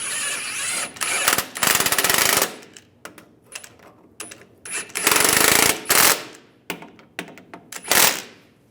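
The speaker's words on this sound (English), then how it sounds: "Snug the bolts up." An impact wrench or power tool snugs the front shock mount bolts on a 2007-2013 Chevy Silverado 1500, firing in loud, close rattling bursts of one to two seconds with short pauses and quick taps between them.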